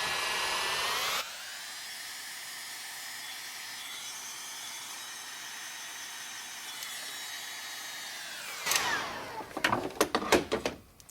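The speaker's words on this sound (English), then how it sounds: "Now with our heat gun, we'll shrink it." A heat gun blowing steadily to shrink heat-shrink tubing during a 26b injector swap, a constant whooshing drone that cuts in and out, followed by clattering handling noises.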